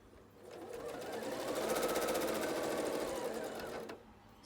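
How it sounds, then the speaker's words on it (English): A sewing machine stitches a quilt seam, whirring up from quiet into a steady, fast rhythmic hum before stopping sharply near the end. "stitch so that you've secured the flap of the seam down"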